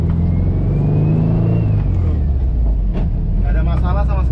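A classic Volkswagen car drives along with its engine running loud and close, a steady low rumble under a faint whine that rises and falls, with a brief extra rattle near the end.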